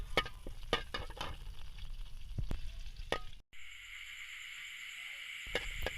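Oil and butter frying in a pan, a steady sizzle with sharp clicks and taps of a utensil, broken by a brief cut, then a smoother, brighter hiss of frying.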